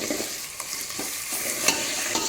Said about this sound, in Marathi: एवढं मी लसूण, अद्रक आणि खोबऱ्याचं वाटण घालत आहे।